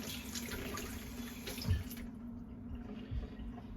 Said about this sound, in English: I'm going to just rinse the syringe out.